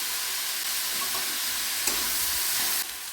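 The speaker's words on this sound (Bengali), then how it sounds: "মোচাগুলো দিয়ে ভালো করে ভাজতে হবে এবার লবণ দিলাম হলুদ দিলাম" Banana flower fries with salt and turmeric in hot oil, giving a loud, steady sizzle with faint stirring scrapes throughout and no voices.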